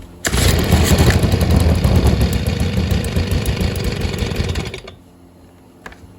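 Stihl SH 55 handheld blower/vac two-stroke engine running with the choke on, a loud rough steady roar close by that carries for several seconds before cutting down abruptly to a faint idle, with a brief click near the end.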